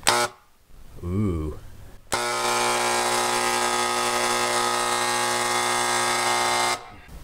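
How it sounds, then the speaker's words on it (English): A paint sprayer spraying paint onto haunt panels starts with a sharp burst and runs as a loud, steady mechanical hiss and whine for several seconds before cutting off, after a short voice at the start. "The first bit of paint sprayed in the haunt."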